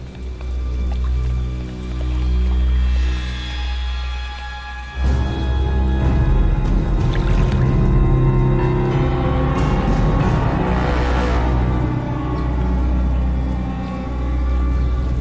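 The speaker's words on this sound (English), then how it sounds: "I use the vibration I make with my hands in the water to communicate with him." Hands slap and swish through water to draw a crocodile near, a steady run of wet splashing and dripping that continues throughout, close by, with no talk over it.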